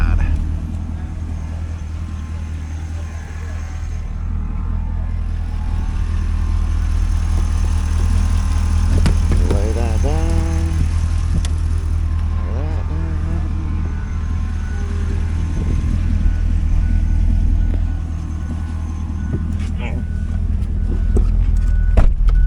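2008 Chevrolet Corvette C6 with LS3 engine running while driven at a wrecking yard, a steady low rumble throughout with brief chirps and clicks, under intermittent talk.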